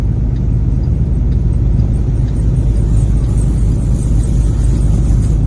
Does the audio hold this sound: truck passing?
yes